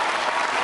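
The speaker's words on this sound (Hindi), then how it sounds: "तालियां बजा लो और एक बार अपने लिए जोरदार तरीके से" Schoolchildren clapping loudly for themselves during a Navratri quiz show at S J Public School, a brief, bright burst of many small hands clapping close and vigorous.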